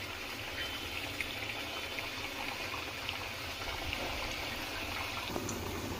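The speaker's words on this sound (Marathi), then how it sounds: "तर आपण हे आता छान तळून घेऊयात." Modaks made from wheat flour deep-frying in hot oil, a steady, even bubbling hiss that runs unbroken and moderately loud, with no talk.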